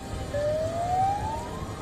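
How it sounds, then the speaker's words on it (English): A tsunami warning siren rises in a single slow upward wail, carrying at a moderate distance over a steady low background rumble, with no voices. "Sirens blared."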